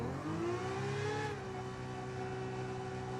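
A race car engine in Gran Turismo 7, played in VR, revs and climbs in pitch, then holds a sustained high whine at steady throttle; a moderately loud, continuous engine drone with no talking.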